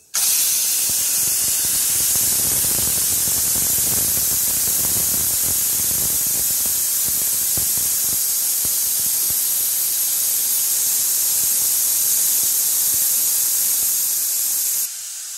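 A pressure cooker holding tomatoes for soup lets out its steam after several whistles, giving a loud, steady hiss that runs unbroken for about fifteen seconds and then cuts off abruptly.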